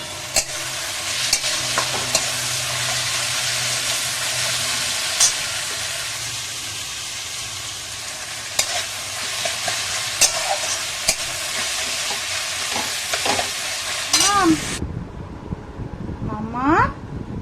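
Meat sizzles loudly in a wok with steady hiss and repeated clanking stirs, then the frying noise cuts off near the end as voices continue talking.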